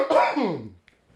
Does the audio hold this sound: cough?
yes